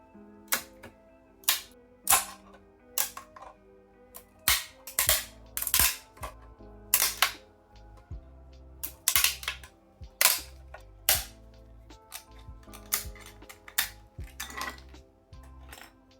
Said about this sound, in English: sometimes the most satisfying part is the little things, like support removal ASMR